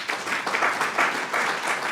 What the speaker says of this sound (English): Can we get a round of applause for all those folks?